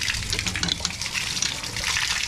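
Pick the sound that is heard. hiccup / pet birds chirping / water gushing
water gushing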